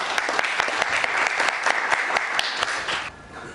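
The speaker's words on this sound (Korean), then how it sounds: "여러분 뜨거운 박수로 환영해 주시기 바랍니다" Loud, warm audience applause at an anniversary event welcomes a guest speaker, a thick, continuous clatter of many hands that stops abruptly near the end, leaving a quieter room.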